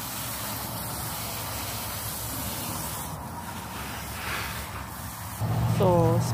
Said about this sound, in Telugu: సో స్ప్రే చేయడం అయిపోయింది.